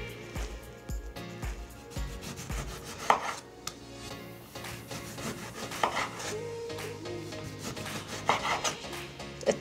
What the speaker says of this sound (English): as I'm sitting here chopping these lemons and their limes